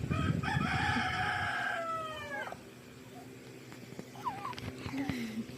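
A chicken crows with a drawn-out, wavering call, then a few soft clucks follow amid a quiet room background.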